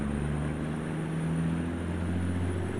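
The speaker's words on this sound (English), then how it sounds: "the aeroplane that he's using there looks like a freaking crop duster" Low-flying crop duster aeroplane in American Truck Simulator, a steady propeller engine drone with strong low harmonics, loud and continuous with no voices.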